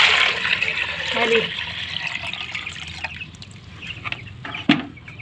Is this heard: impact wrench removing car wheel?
no